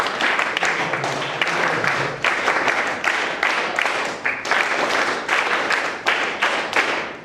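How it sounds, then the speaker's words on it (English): An audience applauds at a school science programme in Mumbai, with a crowd clapping steadily in thick, slightly uneven waves that stay fairly loud throughout. "A big round of applause."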